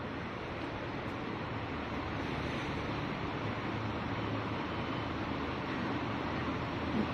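Water poured steadily onto a waterproof tile makes a continuous, even splashing rush that holds at a constant level for several seconds, with no voices heard.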